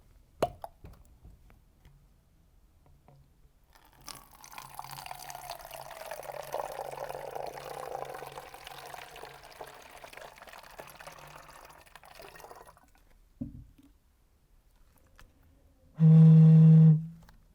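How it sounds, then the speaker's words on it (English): Water is poured into a bottle with a rising gurgling pitch, a soft splashing stream that builds and fades, followed by a brief loud tone blown across the bottle near the end. "when we add water to that bottle, the pitch goes a bit higher"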